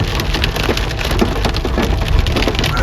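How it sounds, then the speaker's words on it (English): Heavy rain arriving over mountain country after wildfires, a loud constant patter of drops drumming on wood and other surfaces close by, steady throughout with no talking. "This is just a quick update to show you that the rain is here"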